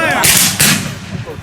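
A loud musket volley fired by a platoon at an outdoor Civil War reenactment, a sharp crack with a second blast close behind, both booming near and heavy before fading.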